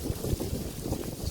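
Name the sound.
wind blowing through fallen autumn leaves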